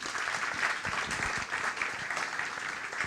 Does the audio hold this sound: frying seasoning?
no